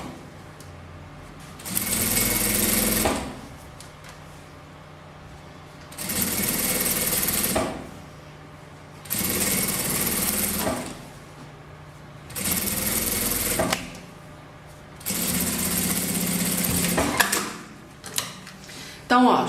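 A sewing machine stitching along the edge of a fabric scrap rug runs in five steady bursts of a few seconds each, separated by pauses, with someone speaking between the runs.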